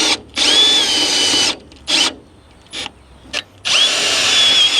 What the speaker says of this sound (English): Comes with a couple of pre-tapped screws here, so we're just going to run those down.